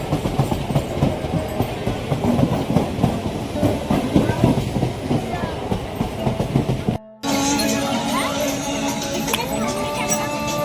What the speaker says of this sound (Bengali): ট্রেন যাচ্ছে এখন